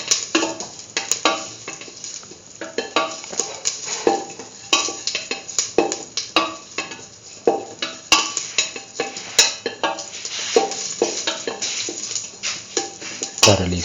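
Fennel and caraway seeds being mixed with salt in a bowl, a steady run of close scraping, clinking and stirring strokes with repeated sharp ticks against the dish.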